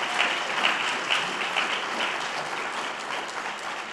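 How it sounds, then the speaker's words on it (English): An audience at the Health Equity Trends Summit applauds Attorney General Andrea Campbell, a continuous, evenly textured wash of clapping heard at a moderate distance. "let's give a round of applause to Attorney General Andrea Campbell"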